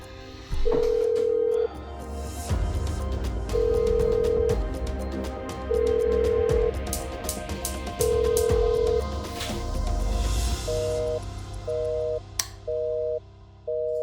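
A telephone rings on and off unanswered in a Turkish call-centre setting, repeated steady tone bursts over a busy background, shifting at the end to quicker beeping tones like a busy signal.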